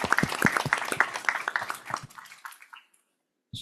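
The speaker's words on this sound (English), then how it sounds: "can I invite everyone to for a round of applause to thank the panelists." Audience applause for conference panelists at a session on the ASEAN Power Grid, a burst of clapping that fades out within about three seconds, followed by near silence.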